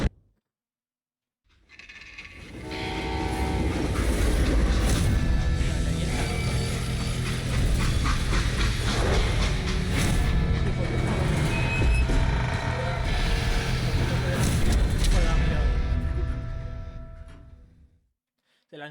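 A train in the Call of Juarez: Gunslinger video game rumbles and clanks with a heavy, continuous mechanical roar and rattling, starting abruptly, holding loud for about fifteen seconds, then cutting off.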